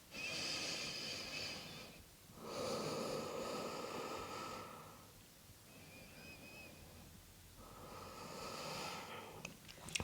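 Deep yoga breaths in slow, alternating rounds: long, airy inhales and exhales, each lasting a couple of seconds. The breathing is close to the microphone, moderately loud, and separated by brief quieter pauses.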